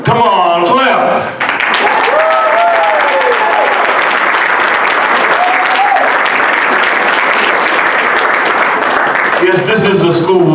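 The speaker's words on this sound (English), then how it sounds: "Come on, clap." Loud, sustained audience applause and cheering fill a poetry slam venue after a score is announced, a dense clapping wash lasting about ten seconds, with a host's voice briefly heard at the start and end.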